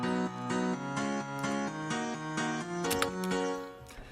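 A piano part for a progressive house build-up plays a low note answered by a bright chord in a bouncy repeating rhythm, steady and close, with a few clicky accents near the end and no voices.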